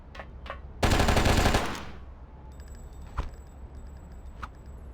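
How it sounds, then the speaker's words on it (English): A short burst of rapid automatic gunfire from a weapon in the video game Oni, loud and close for under a second, followed by quieter game mechanisms and a couple of faint clicks. "Can I, like, just shoot this thing?"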